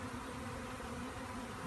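Swarm of mature worker honey bees buzzing steadily during a swarm capture, a dense continuous drone with a low hum band, fairly faint and even throughout.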